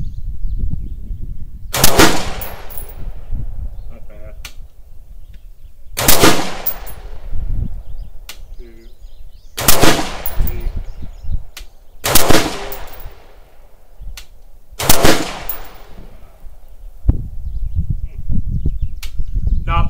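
Rifle with a military profile barrel firing during an accuracy test, six loud sharp shots spaced a few seconds apart, each with a ringing echo that fades before the next.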